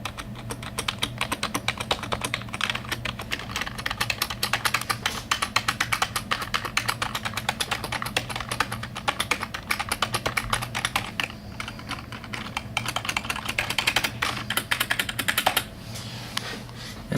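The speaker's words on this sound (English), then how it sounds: "I do like the sound the keys make when you press on it." Rapid, continuous typing on a rubber dome keyboard, with soft, muffled keypresses in a quick, uneven rhythm close to the microphone.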